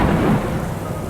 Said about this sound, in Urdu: اسی اثنا میں بادلوں نے گرجنا شروع کر دیا۔